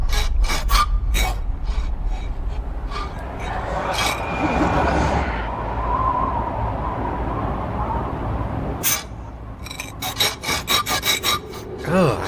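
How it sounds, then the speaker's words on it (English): A harsh rasping scrape, like something dragged across the ground or a bench in a horror short, grinding on and off for several seconds between bursts of louder sharp scraping. "Oh, I hate that scraping sound."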